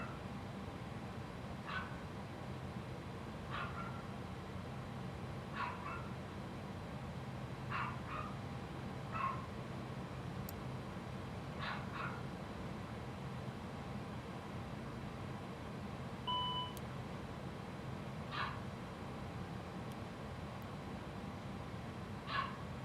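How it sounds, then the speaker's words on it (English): A small dog barks in short scattered yips and woofs, about a dozen over the stretch, faint and a little distant above a steady low engine hum. "He's been a little barky butthole all day"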